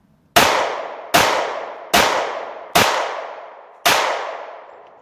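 A Glock 27 handgun fires five loud, sharp shots down range, spaced a little under a second apart. Each bang rings out with a long reverberant tail.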